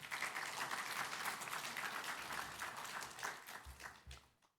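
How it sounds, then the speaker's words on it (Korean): A church congregation claps together in a long, even burst, loud at first, with a few heavier thumps near the end before the clapping fades away. "혹시 동의하시면은 박수 한 번만 부탁드리겠습니다."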